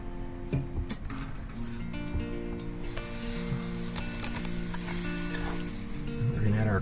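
Ingredients melting and sizzling in a pan during no-bake peanut butter fudge cookie prep in a van kitchen, a steady soft crackle with faint clicks and stirring, fairly close and continuous.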